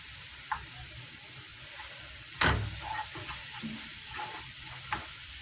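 Food frying in hot oil in a pan, a soft steady sizzle with a few brief clicks and one louder stir or clatter midway, no voices.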